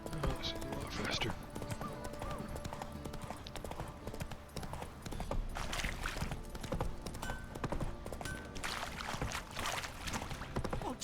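Hooves of the horse Roach galloping in The Witcher 3, a rapid rhythmic clip-clop running steadily throughout, mixed with game sounds and voices talking over it.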